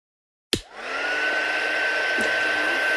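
A heat tool switches on to heat-set an embossing folder, starting with a sharp click and rising whoosh, then settling into a loud, steady blowing whir with a constant tone.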